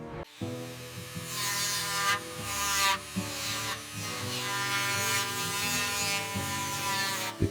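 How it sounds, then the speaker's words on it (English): Bolts torqued by hand on a 1910 Ford Model T chassis with its original wooden spokes, heard as steady ratcheting clicks close by in short passes with brief pauses, over a faint hum. "Every bolt on this 1910 chassis is torqued by hand, just like they did it back then."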